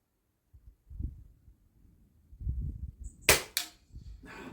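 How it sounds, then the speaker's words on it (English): Sighter and test shots from an FX DRS airgun on a breezy 100 m outdoor range: two sharp cracks close together, the second followed by a quick echo, standing out above faint low wind rumble. "So we'll have a handful of shots."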